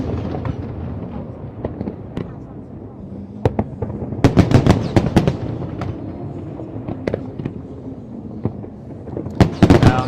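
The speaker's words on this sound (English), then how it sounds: "Here we're seeing different shapes created through the fireworks." Lunar New Year fireworks burst over Hong Kong in a show forming shapes in the sky, loud sharp bangs and crackles arriving in irregular clusters against a steady rumbling crowd-and-city background, heard from a distance.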